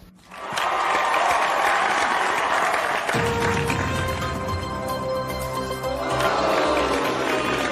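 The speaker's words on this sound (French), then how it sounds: "Applaudissez-la chaleureusement s'il vous plaît." Studio audience applauding warmly on a talk-show set, loud sustained clapping that swells in quickly and carries on throughout.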